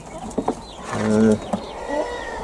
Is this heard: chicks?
yes